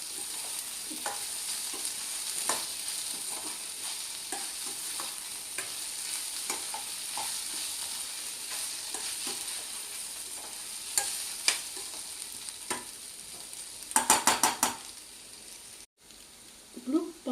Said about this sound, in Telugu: 2 స్పూన్స్ అల్లం వెల్లుల్లి పేస్ట్ వేస్తున్నానండి. వేసి కలుపుకుంటున్నాను.